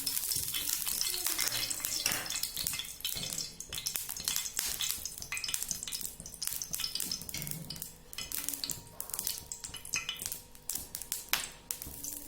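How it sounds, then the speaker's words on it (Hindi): Oil sizzles and crackles steadily on a hot griddle for chicken shami kababs, with scattered sharp taps and scraping throughout. "तवा हमने गर्म होने के लिए रख दिया है। उसके ऊपर हम ऑयल ऐड कर देते हैं।"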